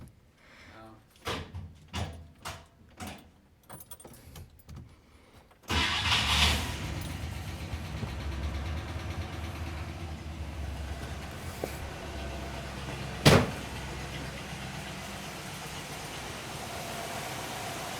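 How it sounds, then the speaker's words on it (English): A 1964 Rambler engine starting: several rhythmic cranking turns, then it catches and settles into a steady rumbling idle, close by, with a sharp knock partway through and a voice speaking at times. "Gonna try to start her up."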